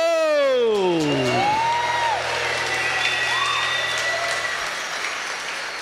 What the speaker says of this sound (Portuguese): Uma salva de palmas para o ressuscitado!